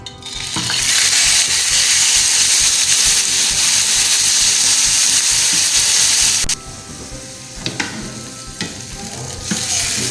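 Half a kilo of boneless chicken pieces sizzles loudly in hot oil in a pan for a homemade shawarma. The frying hiss is steady and dense, then drops to a quieter crackle with a few light clinks after about six seconds.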